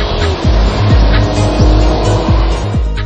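A Mercedes-Benz W124 500E sedan drives with a deep, continuous engine drone, and its pitch drops in repeated gear-change dips as it pulls hard and close by.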